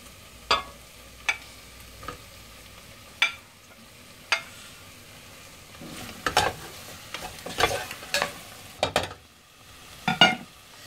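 Tomatoes sautéing for a prawn and drumstick curry, a spoon scraping and knocking the pan in scattered strokes, faster toward the end, over a faint sizzle.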